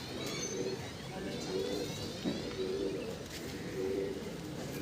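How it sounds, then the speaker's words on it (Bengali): A Kaldom pigeon coos softly several times in a slow, repeated rhythm over a steady hiss of background noise. "এই হচ্ছে পায়রা"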